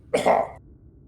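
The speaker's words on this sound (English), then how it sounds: "Sorry, let me clear my throat." A single short throat clearing, close and fairly loud, a rough burst lasting about half a second before quiet returns, in Final Fantasy XIV.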